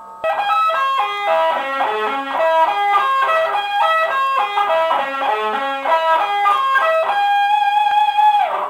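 Fast sweep-picked electric guitar arpeggios sweep up and down in quick, even cascades of notes with a bright effected tone, played continuously and loud.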